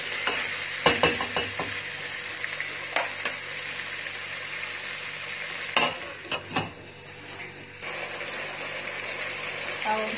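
Potatoes frying in a pan on a stove, a steady broadband sizzle running throughout with several sharp clatters of stirring or utensil knocks near the start and midway.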